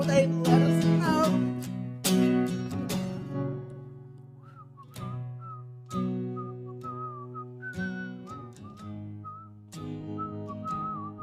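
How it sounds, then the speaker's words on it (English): A melodic whistled tune rides over strummed guitar chords, the whistle clear and steady across several phrases. "And then you add the whistling."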